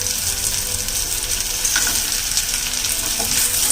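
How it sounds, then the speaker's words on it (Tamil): Garlic and groundnuts frying in oil in a pan for groundnut chutney, a loud steady crackling sizzle with occasional stirring scrapes and no talk. "இந்த பூண்டு போட்டு கொஞ்ச நேரத்துலேயே நெடக்கடலை போட்டு வறுத்துருங்க"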